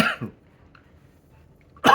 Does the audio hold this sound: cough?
yes